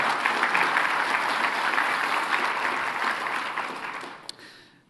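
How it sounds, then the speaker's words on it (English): Audience applause honoring the sponsoring companies at an ethics awards ceremony, a dense steady wash of many clapping hands filling the room, then tapering off near the end with one sharp final clap. "Please give them a round of applause."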